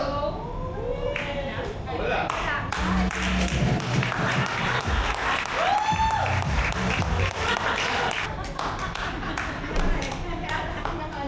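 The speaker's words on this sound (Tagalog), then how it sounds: "the crowd goes wild!" A street crowd erupts after a magic trick with a 500 peso bill, loud applause, claps and excited voices filling the whole stretch, with thumps and shouts mixed in.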